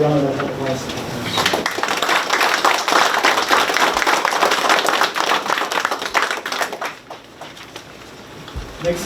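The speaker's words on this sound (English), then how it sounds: "How about another round of applause?" Applause at a formal signing ceremony for the amended Compact of Free Association, a brief burst of clapping with a voice over the start, then scattered claps and movement as it dies away.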